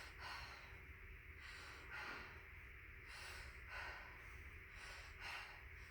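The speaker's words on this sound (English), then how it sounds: "Deep breath." A deep breath drawn in and let out during a stethoscope lung exam in a rapid head-to-toe assessment, heard as repeated breathy inhale-exhale cycles, close and steady over a low background hum, with no talking.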